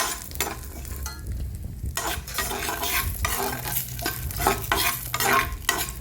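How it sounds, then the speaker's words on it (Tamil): Almonds, cashews, raisins and cardamom peel frying in ghee for semiya payasam, a soft sizzle broken by frequent scraping and rattling as a spoon stirs them in the pan, close up with no voices. "ஸோ இது எல்லாத்தையுமே வறுத்து எடுத்துப்போம் நெய்யில்."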